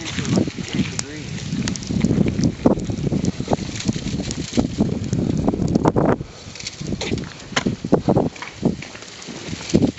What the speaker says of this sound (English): Boy, that wind is cold.